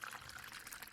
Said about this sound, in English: Let me pour us a drink.